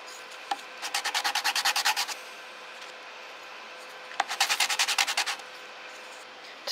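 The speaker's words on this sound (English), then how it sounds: "To sand the inside of the bowl," Sandpaper rubbed by hand against the inside of a hand-carved wooden bowl, heard as two bursts of quick, rhythmic scraping strokes, about ten strokes each, close and fairly loud with a quiet pause between them.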